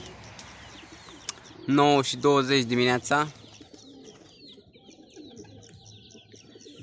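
Racing pigeons coo and chirp after being released, with a loud burst of cooing in the middle followed by quieter scattered calls, while someone speaks nearby.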